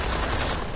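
Gunfire in the Deus Ex: Mankind Divided video game, a brief, dense burst of rapid shots filling the whole short moment at steady loudness, with no voices.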